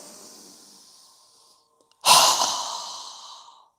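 During a yoga breathing exercise, a soft nasal inhale is followed by a sudden, forceful open-mouthed exhale that starts loud and breathy, then trails off over about a second and a half.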